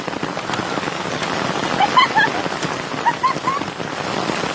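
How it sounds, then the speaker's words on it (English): Hail pelting a camping awning during a storm at a lakeside state park, a dense steady patter of impacts over a rumbling background, with a few faint high bird-like chirps and no clear talk. "We got smash in a hailstorm."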